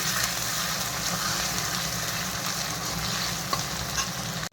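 Onions fry until browned for biryani with a dense, steady close sizzle and continuous stirring scrapes, ending with a sudden cut.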